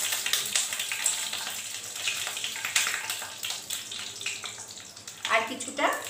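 Two bay leaves and a few dried red chillies fry in mustard oil with a steady close sizzle and crackle, a sharper spatter near the end.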